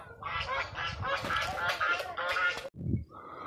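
Pet ducks quack and honk in a steady, busy chorus of overlapping calls close by, breaking off briefly near the end before a lower call resumes.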